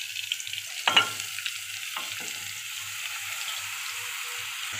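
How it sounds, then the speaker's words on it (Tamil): Onion and green chili frying in a pan for beetroot stir-fry, a faint steady sizzle with a few soft utensil clicks and scrapes near the start, close and quiet. "வெங்காயம் பச்சை மிளகாய் ஓரளவு வதங்கினதும் நம்ம கட் பண்ணி வச்சுருக்க பீட்ரூட்டை அதோடு சேர்த்துக்கலாம்."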